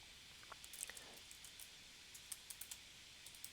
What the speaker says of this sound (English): I'm probably typing in way too much.